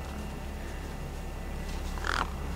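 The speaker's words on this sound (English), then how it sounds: "No way I was going to get between those birds and their feast." Birds in the video game Beyond a Steel Sky gather over a corpse: a steady low ambient hum with a single loud caw near the end.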